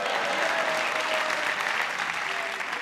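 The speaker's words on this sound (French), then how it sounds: "Vous applaudissez pourquoi?" An audience claps loudly and continuously for a few seconds at a live comedy show, a dense, steady wash of applause with no voices standing out.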